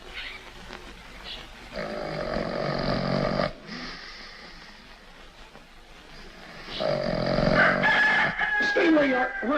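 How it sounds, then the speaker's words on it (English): A rooster crows twice in a row, long drawn-out calls carrying over a quiet outdoor background, with a faint squeaky cry near the end. "Relax. It's only a rooster."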